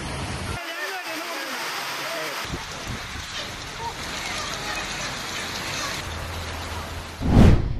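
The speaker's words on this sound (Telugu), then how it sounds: "వర్షం భారీగా కురిసింది" Heavy rain pours down across Hyderabad as a dense, continuous hiss of drops on surfaces, broad and steady throughout, with a louder burst of rushing water near the end and a voice speaking over part of it.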